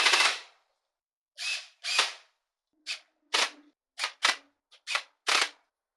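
Cordless drill spinning a flexible drill shaft extension, its clutch clicking in a series of short separate bursts with gaps of silence between them, close and fairly loud.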